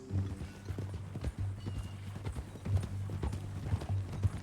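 Horse hooves clip-clop in the Red Dead Redemption 2 video game, a steady walking rhythm of close, clear hoofbeats that runs through the whole stretch, with a low ambient hum beneath.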